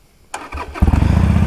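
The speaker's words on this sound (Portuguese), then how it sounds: "vou ligar a moto." A Harley-Davidson Iron 883 motorcycle engine cranks briefly, then fires up and settles into a loud, steady, throbbing idle close by.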